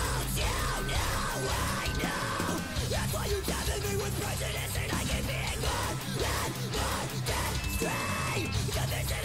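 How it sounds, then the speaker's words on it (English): A song features layered screaming vocals over dense, loud, continuous music, with several yelling voices stacked together throughout. "the way the screams are layered right there"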